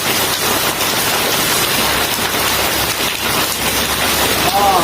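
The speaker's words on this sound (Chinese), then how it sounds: "这么大的雨。" Heavy rain falls steadily at a campsite near a reservoir in Maguan County, Wenshan, Yunnan, a dense, even hiss of drops on surfaces lasting throughout with no letup.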